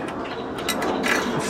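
Bolt being tightened into a bike handlebar stem while fitting BMX handlebars to a mountain bike, a close, brisk burst of ratchet clicks lasting just over a second.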